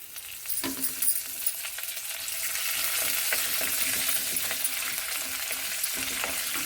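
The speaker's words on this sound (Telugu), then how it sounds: "ఇది మంచిగా ఫ్రై కావాలండి కొంచెం కరివేపాకు ఆయిల్లో" Curry leaves with a half spoon of cumin crackle and fry in hot oil, a steady close sizzle that builds after a sharp pop near the start, with light clinks of a spoon against the pan.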